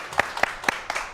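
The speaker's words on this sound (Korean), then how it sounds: "박수 한번 드릴게요" An audience at a Korean cybersecurity talk gives brief applause, heard as a few sparse, distinct claps spaced about a quarter second apart.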